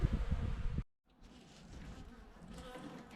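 Honey bees buzz at the inside of a barn window, a soft continuous drone after a brief louder handling noise and a moment of silence.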